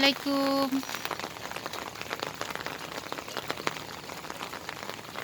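Heavy overnight rain falls steadily on a rooftop garden with potted plants, a dense, even hiss of drops. A brief tonal sound is heard at the very start.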